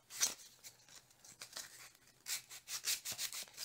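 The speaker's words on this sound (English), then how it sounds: "And now it's going to be hand sanding." Hand sanding a wooden plane tote with rough sandpaper, heard as close, uneven scratchy rubbing strokes in bursts that come and go, faint overall, with no talking.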